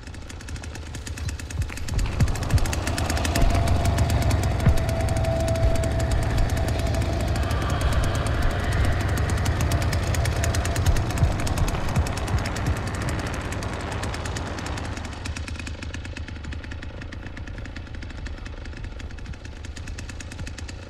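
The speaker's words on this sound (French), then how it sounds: "Ça j'entends la tronçonneuse." Chainsaw engine in The Texas Chain Saw Massacre video game, a loud, steady rattling drone with a harsh knocking texture that holds for about fifteen seconds before dropping to a quieter rumble, with no talk over it.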